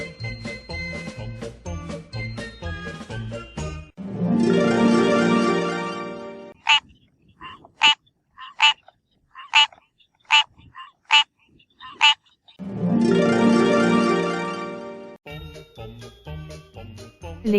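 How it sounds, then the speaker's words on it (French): Frogs and toads croak: long rasping trills alternate with a run of short, evenly spaced calls, set among tinkling, chime-like tones. "Les grenouilles et les crapauds."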